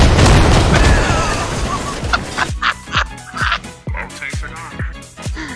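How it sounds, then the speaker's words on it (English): A grenade blast in a video game, a loud booming explosion with a long rumbling decay, followed by a string of sharp, rhythmic thuds and bursts. "I accidentally threw a grenade."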